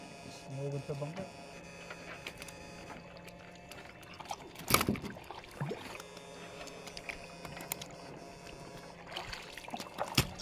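Oars dip and splash in water at an unhurried pace, with a louder splash midway, while people talk faintly nearby.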